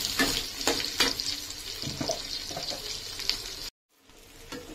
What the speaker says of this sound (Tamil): ஆனியனை நல்லா வதக்கிக்கலாம்.